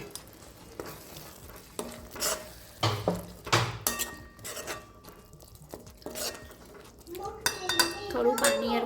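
Boiled green pigeon peas (tuver) go into gravy in a pan for tuver totha, with a series of sharp metal spoon clinks and scrapes against the pan, then bubbling and sizzling that rises toward the end. Nobody speaks.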